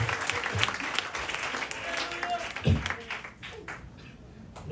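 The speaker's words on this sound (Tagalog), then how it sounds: "Bigyan nga natin sila ng palakpak mga kapatid para sa kapurihan ng ating Panginoon." A church congregation applauds, a moderately sized group clapping in an uneven, fluttering wash with some louder individual claps and faint voices mixed in.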